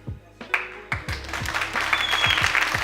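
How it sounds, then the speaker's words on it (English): Audience at a South Bronx youth community event applauding, a burst of clapping that builds from scattered claps into steady applause. "give yourselves a round of applause"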